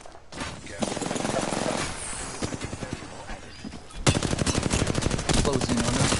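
Rapid automatic gunfire rattles in a dense, continuous stream during a multiplayer shooter match, loud and close, with a brief lull before a heavier burst resumes.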